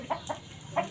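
Chickens on a home poultry setup in Lahore give a few soft, short clucks, about three quick calls close by and fairly faint, with no talking.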